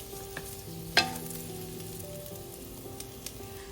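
Potatoes frying in a wok, a quiet steady sizzle broken by a sharp spatula scrape or clack near the one-second mark and a few lighter taps of stirring afterward.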